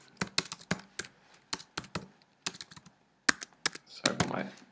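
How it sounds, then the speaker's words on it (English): Rapid bursts of keystrokes on a computer keyboard, typed hurriedly while coding a skeleton tracking program, with clusters of quick clicks broken by brief pauses. "Sorry for my bad typing."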